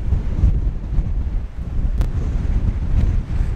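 Strong wind buffets the microphone outdoors on the water near Anticosti Island, a steady low roar with gusts and no voices.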